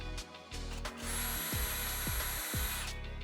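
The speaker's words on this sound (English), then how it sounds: "I'm going to mark the first one, drill it and screw that." A power drill whirs steadily as it bores into a door to fit a letterbox bracket, with a few short stutters of the bit biting into the wood, loud and close.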